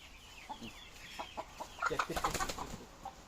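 A feather-footed chicken on a farm gives a run of soft clucks and short throaty calls that build to a quick cluster of clucks in the middle, then trail off. The sound is fairly faint and close.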